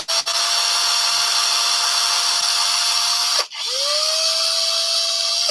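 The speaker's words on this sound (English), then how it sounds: "And drill that in." A power drill whines steadily as it drives into painted wood, loud and close, then briefly stops and spins back up with a rising pitch before running on.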